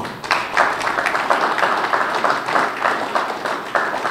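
Audience members at a press retreat clap together in a dense, lively burst of applause lasting a few seconds, close and fairly loud, with no talking over it.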